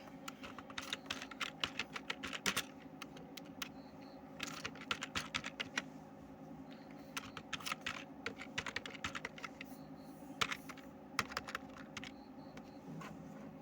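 Rapid keystrokes on a computer keyboard come in quick bursts with short pauses as names, addresses and PIN codes are entered, close and quiet against a steady low background hum.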